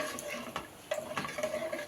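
A spoon stirs mutton bone soup with soaked lentils and coriander in a pot, giving quiet, irregular scrapes and clinks against the metal that are faint and close, with no talking.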